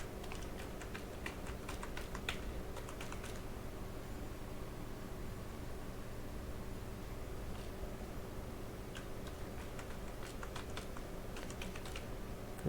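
Soft, quick keystrokes tap on a computer keyboard as a password is entered, coming in two short bursts with a quiet pause between them over faint background hiss.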